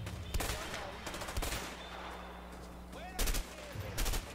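Gunfire in a Mexican shootout in the video game A Way Out: a few scattered sharp shots and short bursts at moderate loudness, with quieter stretches of background game ambience between them.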